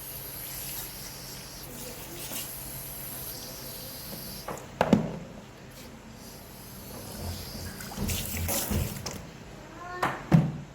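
Lukewarm water runs during a salon hair wash, a soft steady spray hiss in the background with a few louder splashes and handling noises as the hair is rinsed.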